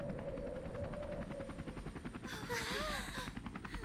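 A helicopter in the video game Persona 5 Royal, its rotor a continuous rapid chopping pulse, loud and close, with a brief rising whine partway through.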